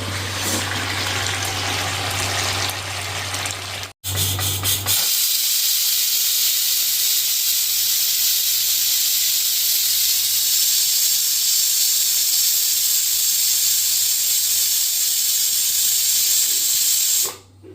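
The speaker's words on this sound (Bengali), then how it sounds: "চলো এবার প্রেশার কুকারে দেবো।" A pressure cooker with meat inside vents a loud, steady hiss of steam that runs continuously for most of the stretch, broken by one brief cut near the start, with a low hum underneath and no talking.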